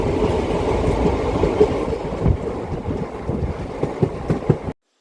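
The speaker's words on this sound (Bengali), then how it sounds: "সবুজ প্রকৃতির মধ্য দিয়ে ট্রেন চলেছে।" A train runs through green countryside, giving a steady close rumble of wheels and carriages with faint rhythmic clickety-clack and buffeting wind, continuous until it cuts off abruptly near the end.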